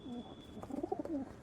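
A male pigeon coos in a short run of soft, low, rounded notes, close by and fairly quiet, with a faint steady hum in the background.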